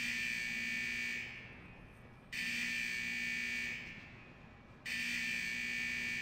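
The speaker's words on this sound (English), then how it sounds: "Those alarms indicate that we're encountering some minor technical difficulties with the fusion press unit." Repeating electronic alarm from a fusion press unit in World of Warcraft Legion, a steady high buzzing tone that sounds in three long pulses with brief quieter gaps between them.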